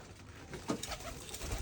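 Pigeons kept on a hobby farm give soft, low coos at close range, with a couple of brief murmuring calls over quiet background.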